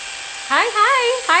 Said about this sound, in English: I'm just gonna finish blending with the clippers real quick